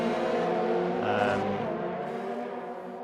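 A racing car engine in an Xbox racing game league event at Zandvoort, Netherlands, droning loudly and steadily with a brief rise in pitch, then easing off slightly, no voices over it.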